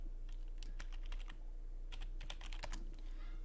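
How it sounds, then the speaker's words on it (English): Quiet clacking of keys on a computer keyboard as a search is typed, in irregular quick bursts of several strokes with short pauses between them, close and alone. "I'm going to type in Skype Web Conference"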